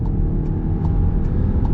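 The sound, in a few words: Volkswagen Tiguan Allspace 2.0 300TSI engine accelerating at full throttle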